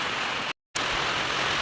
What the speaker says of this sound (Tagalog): Oh, grabe ang ulan guys.